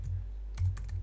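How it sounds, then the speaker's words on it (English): Keyboard shortcuts pressed on a Mac keyboard, a few quick clicky keystrokes bunched together over a strong low hum, close and brief. "So I'm using some keyboard shortcuts there"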